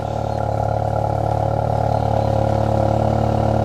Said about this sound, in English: so that's a cold start, which is perfect